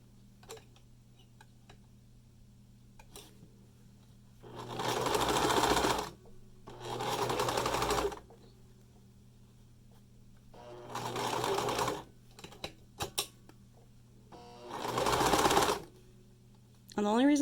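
A sewing machine stitches fabric for a 3D face mask in four distinct bursts of a few seconds each, with quiet pauses between, close and clear over a faint steady hum.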